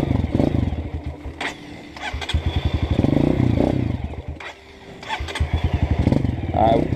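Motorcycle engine running on a rough trail as the rider tries to ride it in, a steady close chugging idle with revs rising and falling, someone talking over it throughout.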